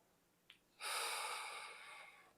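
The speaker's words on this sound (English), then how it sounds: "I'll go 2 more breaths." A short intake sniff, then one long, relaxed exhale of breath during a mobility routine, close and quiet, fading out slowly with no speech.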